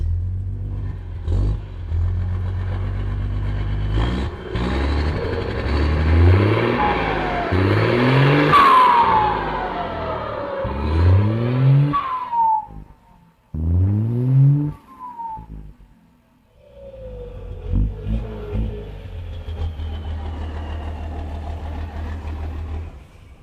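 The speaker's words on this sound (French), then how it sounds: "Écoutons ici le bruit du moteur." A car engine runs and revs repeatedly, rising and falling in pitch through several throttle blips, loud and close, with a brief dip to near silence before idling again.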